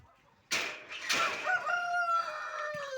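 A rooster crows nearby, a loud drawn-out call that rises then trails off, preceded by a short squawk, with quiet farmyard background.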